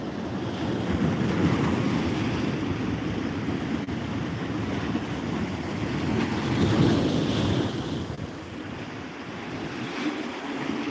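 Sea waves at Pondicherry beach wash in with a steady, rushing surf roar, swelling and easing with each wave under constant wind buffeting the microphone.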